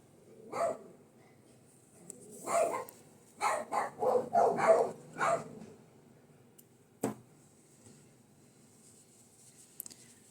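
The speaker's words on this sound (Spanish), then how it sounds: "ellos ladran a todos los perros que pasan" Two dogs bark outside at passing dogs in several bursts, a quick cluster in the middle, sounding a little distant with quiet gaps between.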